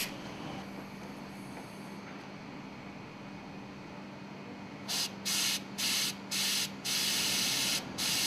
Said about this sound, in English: Clean the air cylinder with compressed air.